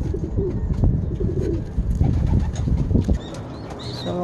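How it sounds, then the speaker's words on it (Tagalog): Pigeons cooing in a low, repeated rhythm with bursts of wing flapping, close by and steady throughout, with faint higher chirps and rustling in the background. "So, ayan yung mga kalapati."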